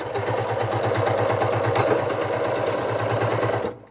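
A sewing machine runs steadily as it stitches a fabric Christmas stocking, with a rapid even mechanical pulse that stops abruptly at the end, close and clear with no talk.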